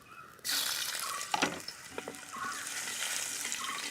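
A sudden burst of loud sizzling as ginger hits hot coconut oil with fenugreek, settling into a steady crackling fry with a few clinks.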